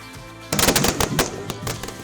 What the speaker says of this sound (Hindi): अंधेरा होने से पहले ही आतिशबाजी हो रही है।